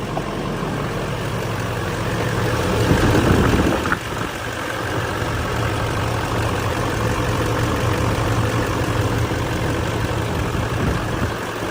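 A Duramax diesel truck engine starts and idles after a FICM replacement, a steady, close clatter with a brief swell in loudness near the start, then an even idle with no voices.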